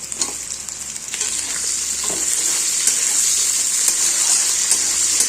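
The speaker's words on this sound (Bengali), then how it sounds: "পেঁয়াজ আর ক্যাপসিকাম একসাথে ভাজবো।" Onions and capsicum fry together in a pan, a close, bright and steady sizzle with light stirring scrapes, growing slightly louder after the first second and continuing alone without talk.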